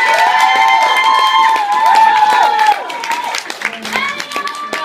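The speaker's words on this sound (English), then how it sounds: "So give her a round of applause." Audience at a stage competition breaks into applause and cheering, loud and continuous, with a voice talking over the crowd noise.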